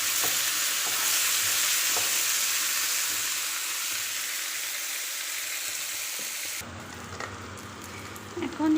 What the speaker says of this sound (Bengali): পেঁয়াজগুলো তেলের সাথে ভালো করে মিশিয়ে দিচ্ছি।